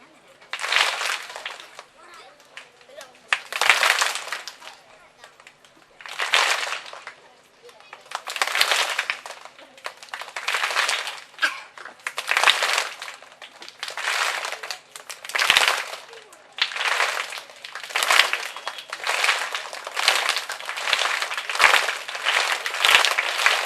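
Group of schoolchildren in a classroom game clapping together in bursts that imitate a moving train's rhythm, roughly a dozen loud clapping spells separated by short pauses, with voices between.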